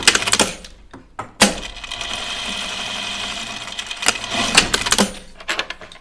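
A sewing machine top-stitches a fabric backpack, fast mechanical whirring in close bursts broken by short pauses and sharp clicks as the work is adjusted.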